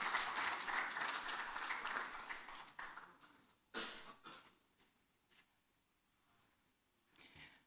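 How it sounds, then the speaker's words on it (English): An audience applauds at a Shelter Afrique meeting. A burst of clapping fades after about three seconds, followed by scattered claps, a cough and small rustling noises in a quiet room. "may I crave your indulgence to applaud the work of the Algerian government with respect to this welcome"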